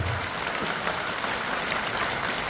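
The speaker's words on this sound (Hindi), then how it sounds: "जोरदार ताली बजा करके स्वागत करो।" An audience at a religious gathering claps loudly and continuously to welcome selected daughters; dense, even applause with no pauses.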